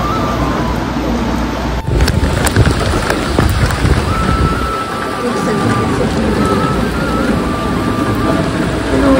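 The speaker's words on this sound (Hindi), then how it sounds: "बाहर में तो बहुत तेज बारिश हो रही है अभी, तेज बारिश हो रही है।" Heavy rain pours steadily, loud and close, with a deep rumble of thunder rolling through partway.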